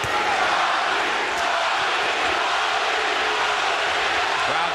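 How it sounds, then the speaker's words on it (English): A large boxing crowd at Arturo Gatti vs Micky Ward 3 roars and chants "Gatti," a dense wall of voices at steady loudness with no single speaker standing out. "Crowd begins to chant, Gatti, Gatti, Gatti."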